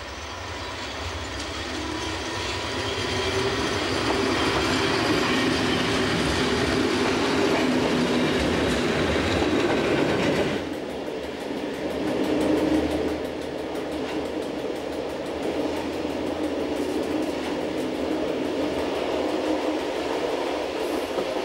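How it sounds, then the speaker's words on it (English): A Swiss Emmental Railways train runs along the Luzern-Bern line with a steady close rumble and clickety-clack, and wheels squeal faintly at times. The noise dips briefly partway through, then carries on. "For the first 3 kilometers, our train continues along the Luzern-Bern line"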